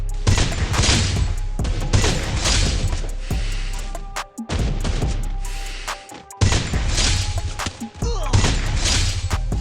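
Bursts of SKS rifle fire in the Free Fire video game come in rapid, loud volleys separated by short pauses, with sharp crashing impacts throughout.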